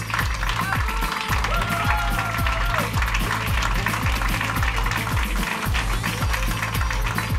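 Applause for award winners and finalists at an inclusion-challenge ceremony: a crowd claps continuously while a strong rhythmic music beat thumps underneath and a voice calls out faintly.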